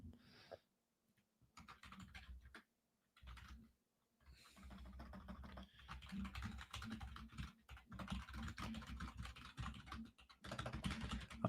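Someone types a message on a computer keyboard: dense, rapid key clatter in uneven bursts, separated by a few brief pauses, close and fairly quiet.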